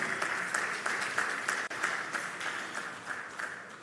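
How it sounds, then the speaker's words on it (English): Conference audience at the Africa Retail Congress 2023 applauding, a steady, dense wash of clapping that runs throughout with a brief dip midway. "Let's clap for him once more."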